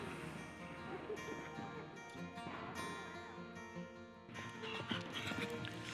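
A horse's hooves on a young rider show jumping course at an equestrian event, a steady clip-clop rhythm heard at a distance beneath a busy background of arena noise and mixed sounds.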